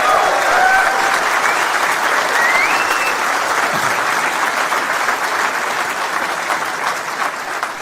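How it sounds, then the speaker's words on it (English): A large crowd at a political rally in Falkirk claps in sustained, loud applause, a dense wash of hand claps with faint cheers early on that slowly tapers. "Another round of applause."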